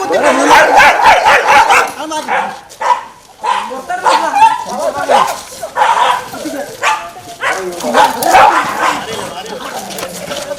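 Street dogs being rounded up for rabies vaccination by a municipality bark, yip and whimper loudly and repeatedly at close range, with people shouting over the commotion.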